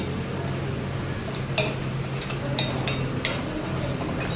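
A spoon scrapes and clinks against a metal pot in a few sharp taps while stirring spices, over a low steady hiss of cooking.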